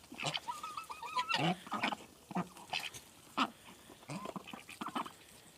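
Ducks and geese on a farm being fed beet mixed with meal, giving repeated close quacks and honks in short bursts with uneven pauses between calls.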